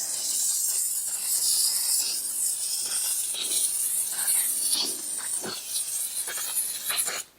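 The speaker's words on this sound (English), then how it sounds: "I'm going to spray on some of this 3M General Purpose 45 adhesive spray" 3M General Purpose 45 adhesive spray hissing from an aerosol can in a steady close burst lasting several seconds, with slight fluctuations before stopping sharply.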